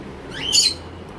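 A dove, close by in a quiet home, gives one brief, sharp call that rises and fades within half a second against faint background noise.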